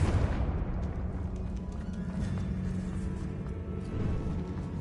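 In Hogwarts Legacy, a Confringo blasting spell sets off a booming explosion with a sharp onset, then a heavy rumbling roar that decays slowly over several seconds.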